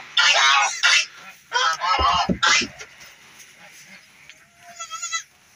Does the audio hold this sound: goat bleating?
yes